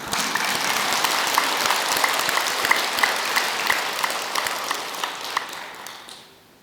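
Dense audience applause at a Buddhist dharma talk in a Korean temple, a loud continuous patter of many hands that fades out near the end.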